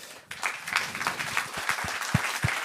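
Audience applause for a guest at a talk on child brain development, starting abruptly and holding as a steady mix of many hands with a few loud, close individual claps standing out.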